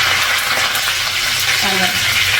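Dried red chillies and curry leaves crackle and fry in hot oil, with a steady close sizzle through the whole stretch and a few soft clinks of stirring.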